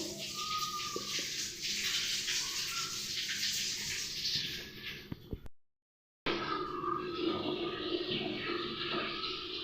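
Bele saaru, a lentil soup, boils in a pot with a steady loud bubbling rush, close by and continuous apart from a brief cut to silence near the middle.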